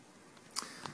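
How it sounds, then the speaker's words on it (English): The mode dial on a Canon camera is turned, giving two small, crisp clicks close up in a quiet room. "So what I can do now is adjust the dial to shutter priority"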